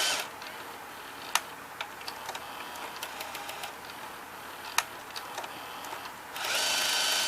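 Sony EV-C200 Hi8 VCR unloading a tape, a soft steady mechanical whir with faint ticks and clicks, close and quiet, rising into a brighter hiss near the end.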